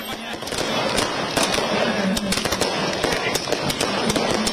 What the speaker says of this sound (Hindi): फिरायलाल चौक पर आतिशबाजी की गई।